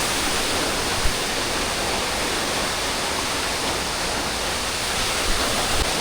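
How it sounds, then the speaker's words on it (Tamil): Keralamkundu waterfall in Malappuram pours in a dense, continuous broadband rush, loud and close, with no voices over it. "ஃபால்ஸ் இங்கே ஊற்றிக்கிட்டு இருக்கு"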